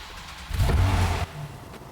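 A car engine revs up briefly with a deep, swelling roar, then drops back to a lower idle rumble.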